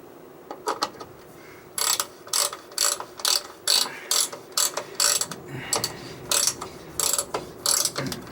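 Hand ratchet tightening a tapered plug on a Ford M5OD-R2 five-speed manual transmission in a Bullnose F150 project truck: repeated bursts of crisp clicking in short strokes, close up and alone.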